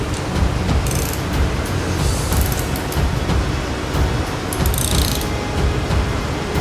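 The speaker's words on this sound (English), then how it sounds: "I use my handy dandy El Cheapo stud puller, which hasn't failed me yet" A cheap stud puller works a stud loose on a tractor, giving loud, close, continuous metallic grinding and ratcheting under a heavy noise bed, with a few sharper clicks.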